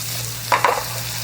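Spicy garlic shrimp frying in a hot pan, a steady close sizzle with two brief bursts of scraping and stirring in the middle, no voices.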